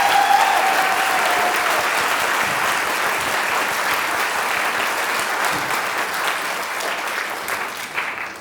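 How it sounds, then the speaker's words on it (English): An awards gala audience applauding, a dense sustained wash of many hands clapping in a large room, loud at first and slowly tapering off over several seconds, without speech on top. "everyone, give him another round of applause"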